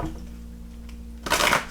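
Tarot cards are shuffled close up, a quiet hum giving way to a brief, crisp riffle of cards near the end.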